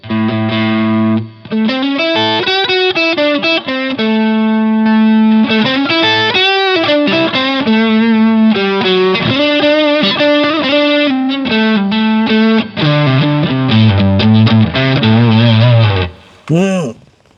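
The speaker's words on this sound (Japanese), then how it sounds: "巻き弦の巻き弦たる歪みの音みたいな、生っぽさと歪みがある" Electric guitar played through a Japanese-designed LPD Pedals distortion pedal, gritty wound-string tones with a raw edge, loud sustained chords and riffs running almost continuously with only brief gaps, no voices.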